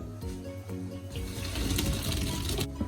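Boiled macaroni is drained of its cooking water in a home kitchen for a mutton mince macaroni dish, a steady pouring and splashing rush that builds and carries on throughout at close range, with no talking.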